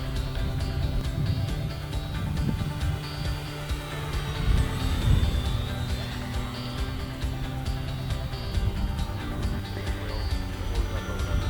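Electric Tower Hobbies P-51 Mustang 40-inch RC warbird model flying overhead, a continuous high motor and propeller whine that rises and falls in pitch as the plane passes, steady and fairly close.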